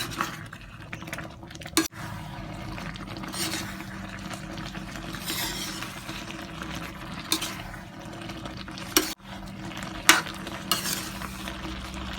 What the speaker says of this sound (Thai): เคี่ยวมาได้พักหนึ่งแล้วจ้ะหมูก็สุกเรียบร้อยแล้วจ้ะ